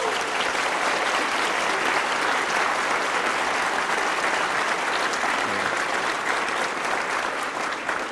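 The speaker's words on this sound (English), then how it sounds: "they deserve a round of applause" A large audience applauds Brier curling volunteers at a Team Gushue congratulation event, a dense, steady wash of clapping that stays loud and unbroken throughout.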